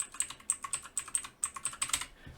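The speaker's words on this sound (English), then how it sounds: "I'm just typing random things" Rapid, irregular keystrokes on a computer keyboard, close and crisp, with about a dozen clicks in a quick, uneven rhythm and no voices.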